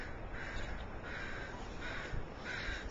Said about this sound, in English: And there's a crow. Can you hear the crow?